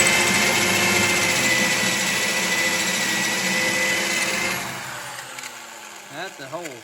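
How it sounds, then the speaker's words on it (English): A power drill drives a hole cutter that is still sharp after about twenty holes, producing a loud sustained whine and grind for several seconds. It then winds down as the bit breaks through and stops. "You'll hear the drill"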